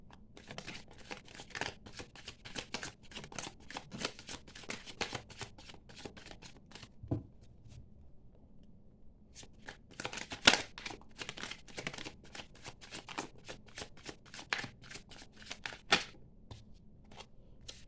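Tarot cards are shuffled by hand in a steady series of crisp, papery riffles and slaps, close and fairly quiet, continuing for the whole stretch with brief pauses.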